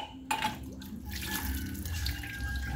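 Strong water gushes continuously from a tap into a sink, a steady loud splashing rush after a brief clatter at the start.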